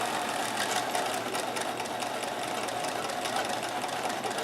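A sewing machine runs continuously, stitching a multi-point zig zag through clothing at a steady fast rhythmic clatter, close and loud for the whole stretch, with no talking.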